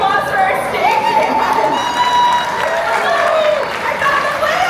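A crowd at SeaWorld Orlando cheers and shouts with scattered clapping, voices rising and falling in a lively, noisy hubbub.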